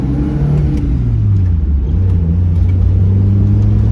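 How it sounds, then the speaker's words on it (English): A Mazda Miata engine idles steadily with the air conditioner switched on, a loud, continuous low rumble with a slowly rising and falling hum, close up and with no talking. "now let's turn the air conditioner on and see what happens. It idles up even higher."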